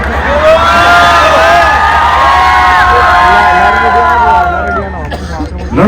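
A studio audience at a comedy show erupts in loud, continuous shouting and cheering, dominated by boys' voices, with whoops and babble holding steady before fading slightly at the end.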